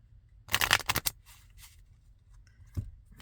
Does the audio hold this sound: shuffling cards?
yes